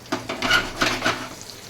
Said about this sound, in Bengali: দেখুন আলু ভাজা